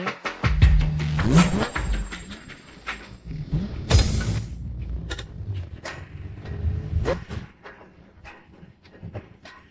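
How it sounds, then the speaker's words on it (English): An Aston Martin car engine revs in short, loud bursts close by, mixed with thumps and other clattering noises of a busy scene. "The engine will blow if you keep revving it."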